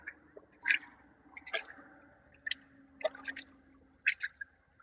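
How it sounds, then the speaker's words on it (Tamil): Rice is washed by hand in a pot of water during outdoor cooking in a coconut grove, giving intermittent close wet squelches and small splashes spaced about a second apart. "அரிசி போட்டு கழுவி எடுத்துருவோம்."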